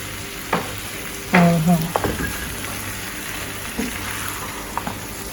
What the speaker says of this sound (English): So you mix it around now, you combine your ackee.